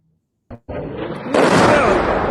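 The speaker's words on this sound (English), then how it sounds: "judging from the size of the explosion you're about to see, I suspect this was also a submunition and not a much larger" A missile submunition explodes in news footage: a short pop, then a loud broadband blast that swells and keeps roaring with debris and rumble, close and dominant.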